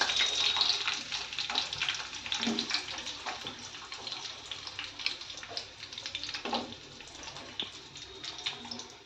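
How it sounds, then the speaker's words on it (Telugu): Onions frying in a kadai with tempering seeds while Maggi is being made, a continuous crackling sizzle with scattered pops and louder bursts over several seconds at close range. "ఆనియన్స్ అయితే ఫ్రై అవుతున్నాయి"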